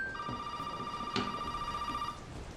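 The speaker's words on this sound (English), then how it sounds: "This phone rang for the past 3 minutes." A telephone rings in Resident Evil 7, a steady electronic trill that holds for about two seconds at moderate volume over a low background, then stops.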